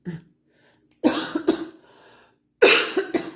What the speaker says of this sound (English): Still getting over that cough.